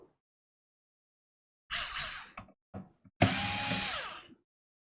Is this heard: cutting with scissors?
no